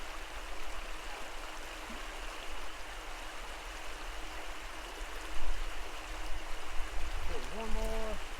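A stream flows in a steady broadband rush, with a voice briefly heard near the end over the moving water.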